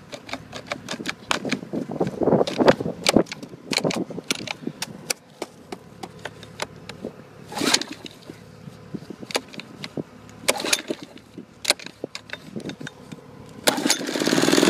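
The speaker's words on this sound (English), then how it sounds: "She fired up. That's the Honda" A cold Honda small engine with the choke on fires up and runs rough, throwing out a close, irregular string of sharp popping bursts that rise and fall in loudness.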